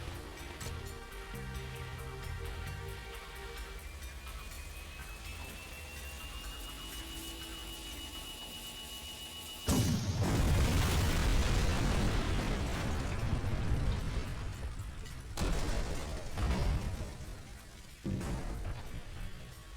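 Tank being destroyed in Jak 2, a sudden loud roaring explosion that cuts in after a stretch of droning tones, followed by crackling rumble and a few further blasts.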